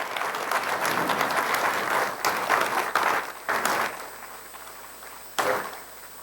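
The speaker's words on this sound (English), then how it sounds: "give a big round of applause for the Honorable Chief Justice of India" An audience at a judicial workshop's valedictory function breaks into sustained applause for the Chief Justice of India, a dense wash of many hands clapping that thins out and fades near the end.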